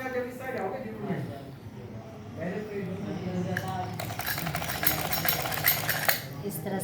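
A sewing machine runs in short rapid bursts while stitching a pocket onto pajamas, its fast clattering getting louder near the end as someone talks over it.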